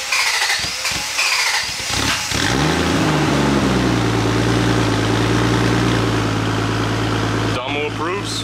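A Toyota Supra MK3 engine turns over and catches, then settles into a steady, throbbing idle close by, with a voice talking over the start.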